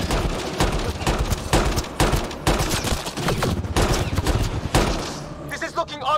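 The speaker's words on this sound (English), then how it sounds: "It's a gunfight in the gun battery then." Rapid gunfire during a firefight in a gun battery in the video game Mass Effect Andromeda: dense bursts of automatic shots and overlapping blasts, loud and close, easing into scattered electronic effects at the end.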